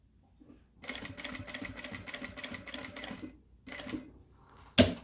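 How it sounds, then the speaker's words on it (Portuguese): A sewing machine stitches fabric on a mini backpack in rapid mechanical bursts, a long run followed by a short one, then a sharp clack at the end. "E vou agora costurar em cima dela até chegar aqui"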